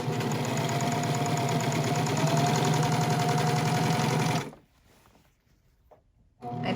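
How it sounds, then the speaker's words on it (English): A serger hums and chatters rapidly as it finishes the raw edge of shortened pants, a loud continuous run of about four seconds that stops, then restarts briefly. "Now I'll finish this raw edge with the serger."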